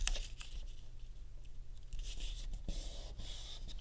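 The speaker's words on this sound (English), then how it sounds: "So now we fold the paper in half and fold that" Paper is folded in half and then folded again, making a steady close crinkling and papery rustle that runs throughout without any talking.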